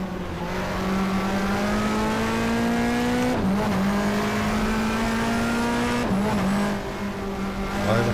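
Race car engine from the GTR2 sim racing game, a 1994 Australian Manufacturers Championship touring car at Eastern Creek, droning loudly and steadily with brief dips where it shifts down to second gear, tires faintly scrubbing.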